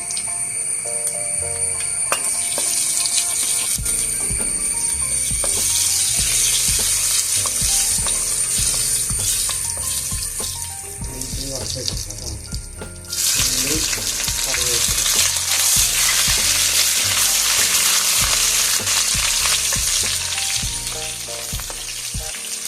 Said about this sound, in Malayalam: എണ്ണ ചൂടാവുമ്പോൾ നമുക്ക് ഒരു ടീസ്പൂൺ കടുക് ഇട്ട് കൊടുക്കും